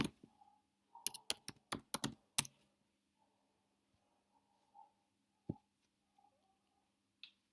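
A search query typed on a computer keyboard: a quick burst of close, crisp keystrokes, then a few sparse isolated taps and clicks in a quiet room.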